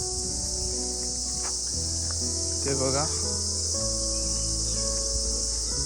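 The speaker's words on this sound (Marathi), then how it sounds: "खूप मस्त असे रातकिडे ओरडत आहेत" Loud, continuous high-pitched trill of crickets at dawn in a village fills the air, with a few birds calling and a brief spoken remark underneath.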